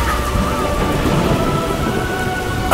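Heavy rain and rolling thunder in a trailer for the Odin Valhalla Rising video game, a loud continuous downpour with a low rumble underneath and no pauses.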